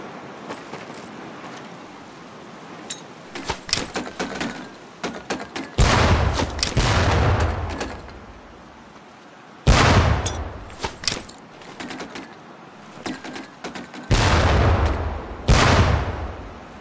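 Training grenades bursting on a boot-camp range in Medal of Honor Pacific Assault, aimed at barrels: several loud, sharp blasts with rumbling decay, spaced a few seconds apart, some close together, with faint background clatter between.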